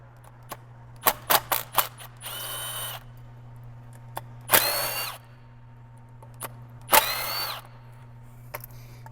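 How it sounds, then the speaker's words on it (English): Power tool working bolts off the thermostat housing of a BMW 750i with the N63 engine: several short sharp bursts, then three longer whirring runs of a second or so each, close and loud over a steady low hum. "we need to take those bolts off from the thermostat housing"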